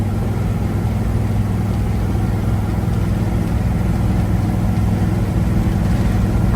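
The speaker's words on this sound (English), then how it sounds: "It's got dual exhaust or glass packs on it, so it's got some pretty good exhaust on it." 1961 Ford F100 V8 pickup with dual glass-pack exhaust, a steady low rumbling drone heard from inside while driving, constant and fairly loud with no voices.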